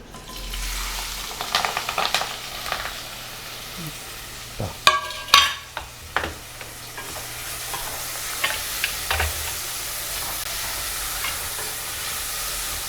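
Onion, green chili and curry leaves fried in oil for a sea-fish curry, a steady sizzle under stirring, with a burst of loud clanks and scrapes of a ladle in the middle.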